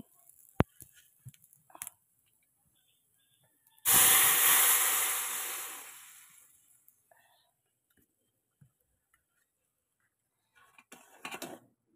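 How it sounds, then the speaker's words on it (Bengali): Spices for phoron hit hot oil while a Bengali fish dish with mango is being cooked, giving a sudden loud sizzling burst that fades over about two seconds, set between quiet stretches with faint clicks. "এটা কি করে এখন ফোড়ন দিয়ে দিচ্ছি"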